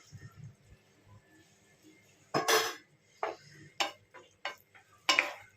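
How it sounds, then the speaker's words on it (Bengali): Cut potatoes and okra drop into a pan of cooked-down spices in oil, giving a few sharp clatters and sizzling bursts spaced irregularly among light utensil clinks, close by and otherwise quiet. "এবার আমি দেখো এর মধ্যে আমি আলু আর ঢেঁড়স গুলো ছেড়ে দিচ্ছি।"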